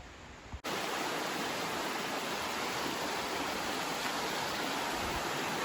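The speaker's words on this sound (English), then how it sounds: "we love hearing the sounds of the water" Water rushing at Natural Bridge State Park in Virginia, a loud, unbroken broadband roar that starts abruptly after a brief quiet moment and then holds steady and close.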